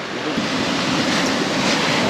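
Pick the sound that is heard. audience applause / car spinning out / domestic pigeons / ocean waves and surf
ocean waves and surf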